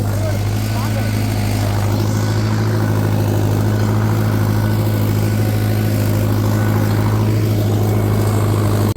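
A tractor engine idles loudly and steadily throughout, a continuous low rumble with a constant hum and no breaks.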